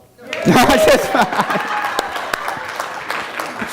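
Audience applause after a talk about running the San Diego Rock and Roll Marathon, clapping swelling quickly with some chuckles and a voice over it, then thinning out.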